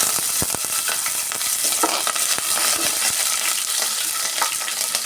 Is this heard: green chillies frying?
yes